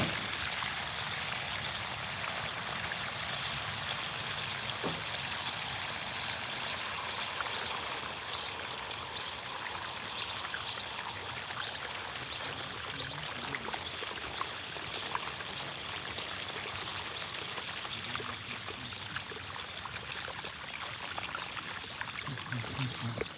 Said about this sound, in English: A lot of water gushing all over the ground.